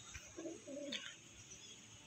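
An Andhra tournament pigeon gives a soft, low coo in two short phrases at moderate distance, with faint background noise and no talk.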